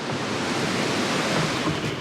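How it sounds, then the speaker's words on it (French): Steady rain at a motorway rest area in France, a dense, even hiss of falling water, loud and close, holding constant without any voices. "De toute façon il pleut, et puis il fait que pleuvoir"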